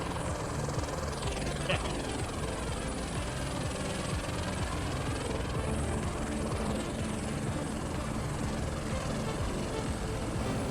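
A helicopter lifts off in a flight simulator game over the Caucasus mountains, its rotor and engine drone steady, loud and continuous throughout with no talk.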